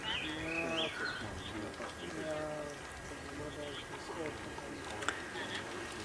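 A wild bird calls repeatedly in the African bush, short tonal phrases at moderate distance, mixed with a person talking and faint background calls.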